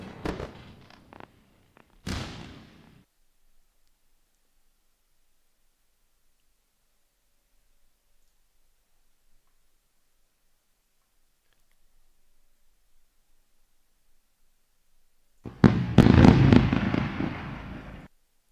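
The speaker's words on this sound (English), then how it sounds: "I love this fireworks." Fireworks celebration effect: a couple of short crackling bursts at the start, a long silence, then a dense, loud run of popping and crackling explosions near the end.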